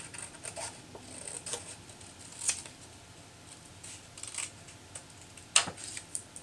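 Scissors cutting paper along a curve for a handmade birthday card, with soft snipping and rustling and a couple of sharper snips, close and quiet.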